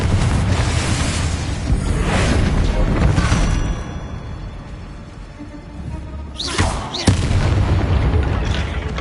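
Explosive spell blasts, Bombarda and Confringo, go off inside a tomb in a Hogwarts video game: loud, booming bursts with rumbling tails, a cluster early on and another sharp blast near the end.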